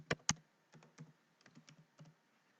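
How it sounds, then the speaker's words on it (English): A search is typed on a computer keyboard as a brief burst of crisp key clicks, two louder strikes and then a lighter, uneven patter, close and fairly quiet. "So let's just search for Franklin Hatchett"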